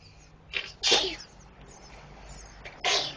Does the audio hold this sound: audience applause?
no